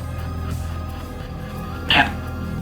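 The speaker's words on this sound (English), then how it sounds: "That's a dog." A dog lets out a single short whimper near the end, rising briefly above a steady low background hum in an otherwise quiet indoor space.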